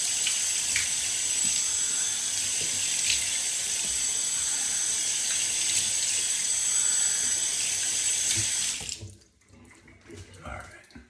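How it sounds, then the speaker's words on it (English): Cold water runs steadily from a bathroom sink tap during a face wash after shaving, a loud, close hiss lasting most of the time before it stops abruptly, leaving faint splashing and dripping. "Cold water for the final wash."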